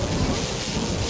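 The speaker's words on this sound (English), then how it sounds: "I'm just going to unleash the thunderstorm" Video game thunderstorm with a steady roar of heavy rain and low rumbling thunder filling the whole moment, loud and continuous with no voices.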